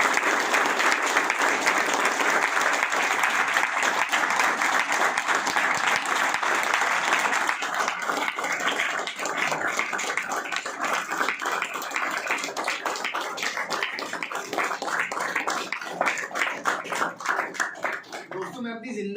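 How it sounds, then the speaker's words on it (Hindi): Loud, sustained applause from an audience at an award event for a Dehradun rehab society, dense clapping that continues throughout and thins slightly toward the end, with some voices underneath. "तो आप लोगों के लिए बहुत जोरदार तालियां"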